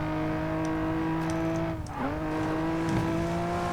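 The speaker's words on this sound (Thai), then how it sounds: "เนี่ยเสียงรถก็ปลุกใจดี" A Nissan Skyline R34's engine in the Racing Master mobile game drones loud and steady with a strong harmonic whine, dipping briefly as the revs drop around a gear change before pulling back up, with no talking over it.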